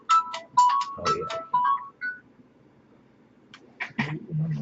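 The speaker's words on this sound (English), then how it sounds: "Phone's always ringing." A phone ringtone plays a quick electronic melody of bright repeated tones for about two seconds, then stops, and a voice follows, heard indoors at close range.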